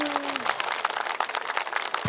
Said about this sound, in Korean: 여러분 박수 좀 크게 한번 보내주십시오.